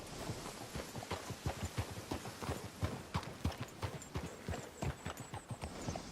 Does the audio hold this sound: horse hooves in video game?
yes